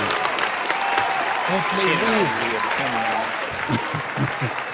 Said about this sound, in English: give Will a big round of applause